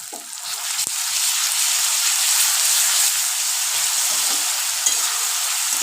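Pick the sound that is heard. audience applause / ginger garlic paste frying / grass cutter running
ginger garlic paste frying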